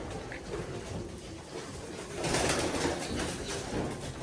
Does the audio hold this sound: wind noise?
no